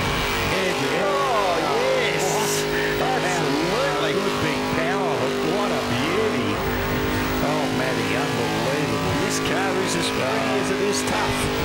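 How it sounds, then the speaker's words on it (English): A big 1957 Chevy does burnout donuts at a burnout competition, its engine roaring continuously while the tires shriek and squeal in rising and falling swoops, loud and sustained, with a commentator talking over the noise throughout. "Goes deep into the donut pad and then now starts to put the icing on the cake."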